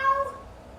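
A short, fairly clear meow voiced by a person imitating a cat, a single sustained tone that fades out quickly.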